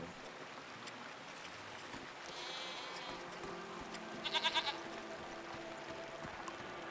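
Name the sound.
goat being petted in the video game Season: A Letter to the Future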